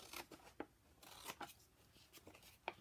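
Quiet, short snipping sounds of scissors cutting paper along a fold line, spaced irregularly with soft rustling between cuts.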